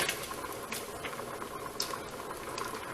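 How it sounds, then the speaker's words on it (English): Mushrooms tossed into a pan of bacon and softened onions, a quiet busy sizzle and bubbling close by with a few small sharp pops and clicks scattered through it. "So now we're going to throw in our mushrooms."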